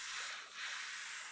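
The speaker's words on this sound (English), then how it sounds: "Spraying at about 8 psi. I'm not pulling fully on the trigger," Airbrush spraying paint at about 8 psi with the trigger partly pulled, coating the spoiler of an Aoshima 1/24 Knight Rider model kit; a steady, close, soft hiss runs continuously with no talk.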